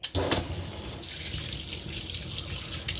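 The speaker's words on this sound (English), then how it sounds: "I freeze it. Then I can just rinse it under the water." Frozen ginger root rinsed under a running kitchen tap, a steady close rush of water splashing into the sink for a few seconds with no talking.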